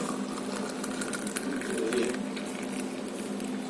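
An electric household water pump motor runs steadily nearby with a continuous mechanical hum and faint rattling, no voices over it.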